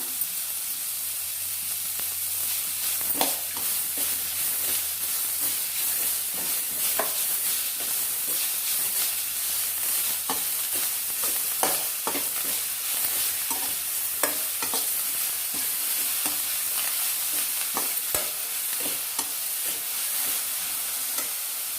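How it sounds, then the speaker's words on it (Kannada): Coriander leaves fry in a pan for a spicy mint chutney, giving a constant close hiss of sizzling broken by irregular scrapes and taps of a stirring spoon. "ಕೊತ್ತಂಬರಿ ಸೊಪ್ಪು ಹಾಕ್ಕೊಳ್ಳೋಣ."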